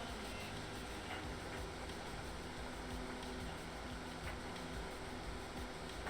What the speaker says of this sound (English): here comes the train as well